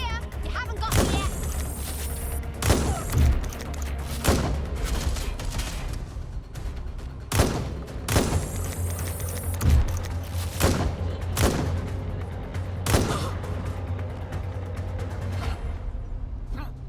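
Bursts of gunfire in the video game Watch Dogs Legion, several sharp loud shots spread irregularly across a steady background, with game voices heard now and then.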